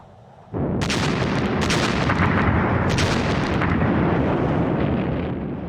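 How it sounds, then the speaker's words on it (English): A Soviet artillery bombardment rumbles as a dense, loud, continuous barrage of booms and blasts that erupts suddenly after a brief quiet and keeps pounding without a break. "Then there was a devastating artillery bombardment."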